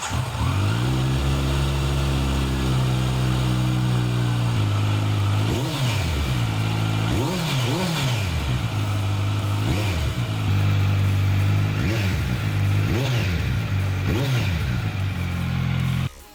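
A Kawasaki Z900 motorcycle with a slip-on exhaust idles with a deep throb, then revs up sharply several times in repeated bursts, loud and close, settling back to idle between each.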